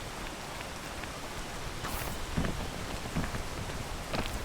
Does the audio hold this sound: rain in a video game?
yes